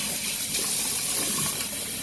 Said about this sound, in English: You just want to put the water in the bag, right?